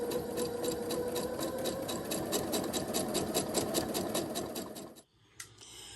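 A sewing machine stitching fabric strips together with a quarter-inch seam, a rapid even mechanical chatter running steadily close up for about five seconds before stopping abruptly, followed by a couple of faint clicks.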